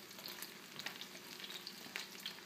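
Steady crackling sizzle of panko-breaded striped bass frying in a hot pan, with scattered sharp pops over a continuous hiss; fairly quiet and close, no voices.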